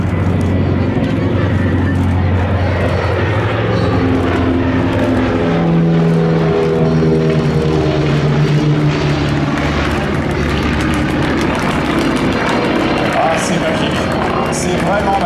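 Two film airplanes fly together at the Biscarrosse seaplane show, their propeller engines droning loud and continuous with shifting pitch as they pass, while someone talks over the engine noise.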